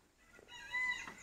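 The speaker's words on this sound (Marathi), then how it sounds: "पळून जाते कोंबड्या" Chickens cluck faintly and briefly at a farmyard, a short soft burst of hen calls with no talk.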